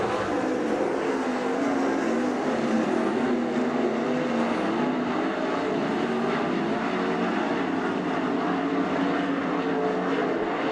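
410 sprint cars race at Attica Raceway Park during a heat race, a continuous loud roar of engines that holds steady throughout.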